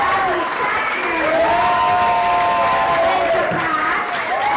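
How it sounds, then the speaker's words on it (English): Audience applause for the judges at Story Smash, a storytelling game show in Big Bear Lake, dense and steady throughout, with cheering and whoops over the clapping and voices mixed in. "let's give a big round of applause to our expert judges tonight"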